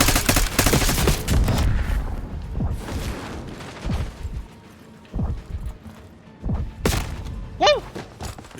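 Gunfire in the shooter game Black Ops 6 arrives as loud bursts of shots and heavy thuds, dense at first and then sparser, and a short rising whistle-like effect comes near the end.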